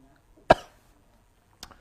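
Two coughs in a quiet room, one sharp and fairly strong followed about a second later by a softer, shorter one.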